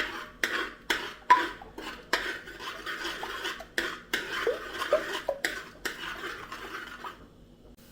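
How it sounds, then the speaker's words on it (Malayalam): Egg is scrambled in a pan for egg masala rice, with a spatula scraping and clacking against the metal in repeated short strokes, fairly close and without speech. "ഈ മുട്ട ഇപ്പോൾ 10 സെക്കൻഡ് ആയിട്ട് ഒഴിച്ചിട്ട് മുട്ട നമുക്കൊന്ന് ചിക്കിയെടുക്കണം"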